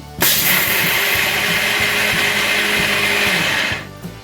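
Mixer grinder jar spinning peeled roasted peanuts, a loud close whirring motor that starts abruptly, holds steady for about three and a half seconds, then winds down.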